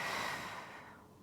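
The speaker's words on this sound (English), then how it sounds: "Same thing applies with the breathing. Breathe out." A single long, controlled exhale during a deep core and glute workout, breathy and airy, tapering off gradually over about a second, close and alone with no talk.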